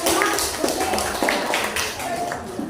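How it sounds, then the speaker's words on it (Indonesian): Classmates clap for group 5 during an Indonesian-language lesson in a school classroom, a scattered patter of hands running beneath a teacher's voice and other chatter throughout. "Tepuk tangan kelompok 5"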